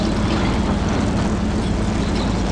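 A damaged propeller airplane's engine in a video game drones steadily and loudly throughout as the plane fails to climb, with a constant low hum and no pauses.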